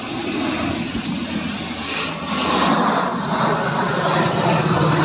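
A loud, continuous roar of an airplane flying overhead, swelling slightly partway through with no talking.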